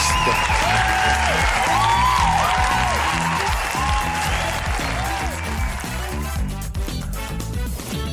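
Applause and cheering from a live audience at the Rire à l'Est comedy podcast, a steady crowd roar over strong music with tonal swells throughout, loud and sustained.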